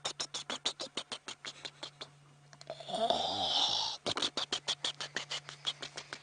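A voice imitates an animal breathing out into mud: rapid bubbling flutters, a hissing blowing breath in the middle, then more bubbling pulses.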